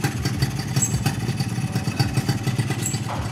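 A stock Yamaha 125ZR two-stroke motorcycle engine idles close by, a steady low chattering putter with rapid uneven pulses and a slight rev near the end, with no talk.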